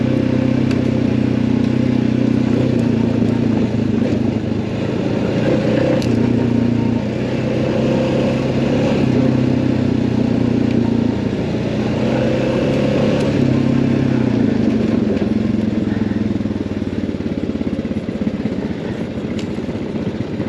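A motorcycle fitted with a K&N air filter cruises on a Christmas Eve ride, its engine droning steadily and loud throughout with gentle rises and falls in pitch, no talking.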